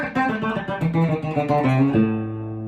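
A fast hybrid-picked electric guitar lick, snappy rapid-fire notes mixing picked and plucked attacks, ends on a ringing, held chord.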